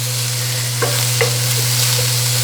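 Half an onion fries in a pan for Korean sweet potato noodle japchae, giving a steady close sizzle with a low hum beneath and a few light utensil clicks and stirs.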